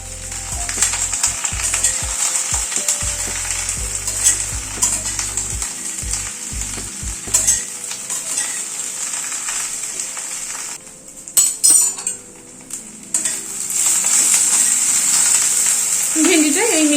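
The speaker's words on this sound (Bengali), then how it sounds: "ভেন্ডিটা এই মিনিট খানেক একটু নাড়াচাড়া করে নিলাম" Okra fries in a pan and gets stirred: a loud, continuous sizzle with scraping and clinks from the utensil against the pan, briefly dipping before the frying noise swells again, with no one speaking.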